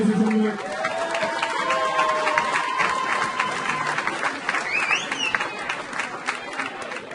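Crowd applause and cheering for boxers after a Golden Gloves heavyweight bout, a continuous roar of clapping across a hall with voices mixed in and a few whistles.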